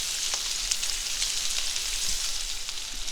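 Chopped shallots sautéing in a pan, a steady, bright sizzle with small crackles and pops, close and continuous with no talking.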